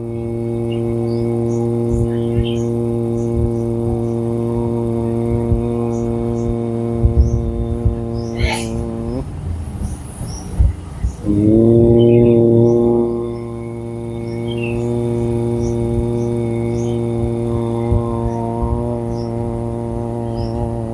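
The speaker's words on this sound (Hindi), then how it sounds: "रेचक धीमे धीमे फ्रंट से आवाज़ होगी भंवरे की तरह" A steady, low, buzzing hum like a bumblebee carries through a long exhale during bhramari pranayama breathing, drops out briefly for a breath, then resumes strongly, under faint background noise.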